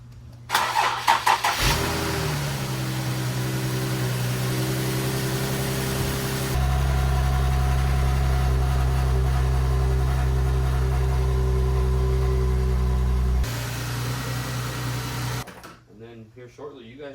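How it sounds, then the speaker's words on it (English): A $500 Infiniti G37 cold-starts with a cranking whir and a loud catch, then settles into a steady, high idle that later drops to a lower idle before shutting off, heard close up. "Give you guys a little cold start on this deal."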